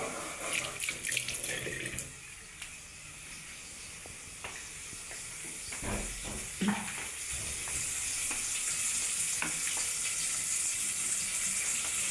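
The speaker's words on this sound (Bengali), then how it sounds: "পেঁয়াজ মরিচ ভাজা হয়ে গেছে" Onion and chili fry in hot oil with a soft, steady sizzle that grows fuller over time, broken by a few clinks and scrapes of stirring.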